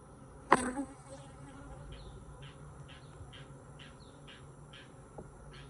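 Bees buzzing close by: a loud thump and brief rush at the start, then a string of short repeated buzzy passes over a low outdoor background.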